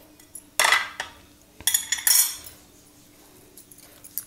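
A spoon scrapes and clinks against a bowl while mixing rice and potato cutlet mixture with spices, giving a few sharp metallic clatters close by, then quieter scraping.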